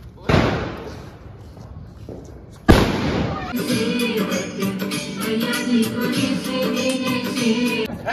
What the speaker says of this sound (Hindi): नया एक्सपेरिमेंट गुलेल में डाल के आलू बम